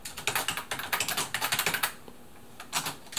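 Keys clatter on a Brother LW-35 typewriter converted into a computer keyboard, a fast burst of close, crisp taps that pauses and then briefly resumes.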